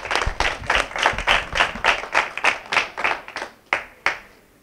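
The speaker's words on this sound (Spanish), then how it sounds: "ahora quiero un aplauso para la Fundación 11" A small group claps in response to a request for applause for the Fundación 11 at a school event, with distinct rhythmic claps that thin out and end in a few final separate claps.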